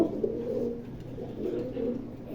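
Naktana Kaldom pigeons cooing close by, steady low throaty coos that keep rolling on through the whole stretch.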